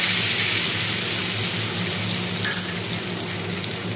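Onions and tomato purée fry in hot oil in a pan while being stirred, giving a steady, close hiss of sizzling with a dense wash of bubbling that eases slightly toward the end; no one speaks.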